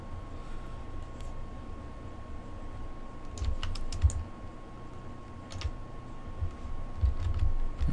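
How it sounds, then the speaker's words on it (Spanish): A Shift key is pressed and the left mouse button clicked at a computer in a Mudbox modeling session. Several faint, quick clicks and key taps sit over a steady hum and a thin constant whine, with no talking. "presiono la tecla Shift y ya le doy clic con el botón izquierdo"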